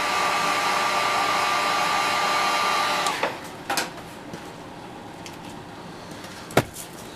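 A heat gun blows steadily and loudly while heating vinyl wrap in below-freezing weather, with a thin whine over the rushing air. It cuts off after about three seconds, leaving faint handling clicks and a sharp knock.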